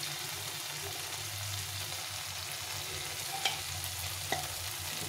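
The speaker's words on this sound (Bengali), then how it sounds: "এটা একটু নেড়ে চেড়ে নিয়ে" Masala that has been cooked down until the oil separates is stir-fried with Kashmiri chilli powder for a mocha kofta curry, giving a steady close sizzle with a couple of sharp spoon scrapes against the pan.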